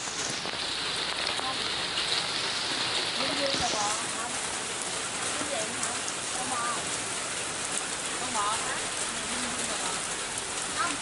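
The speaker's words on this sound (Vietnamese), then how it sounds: "Mưa quá." Heavy rain pours steadily throughout at a zoo and wildlife park in Vietnam, a dense loud hiss with occasional nearby bird calls and faint voices in the background.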